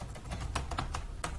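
Several sharp, irregular computer keyboard keystrokes tapped out in a quick burst, close and fairly clear over a low background hum, with no one talking.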